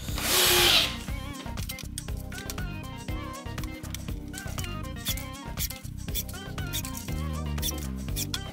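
A power drill drives screws into wooden slats in short bursts of whirring, stopping and restarting several times, close up, after an opening hiss.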